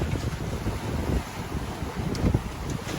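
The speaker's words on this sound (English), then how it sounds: "the wind and waves just went on rising and rising." Strong wind roars and gusts across the microphone while waves slosh and rush around a sailboat crossing the Atlantic in rising seas, a constant close rumble with no voices.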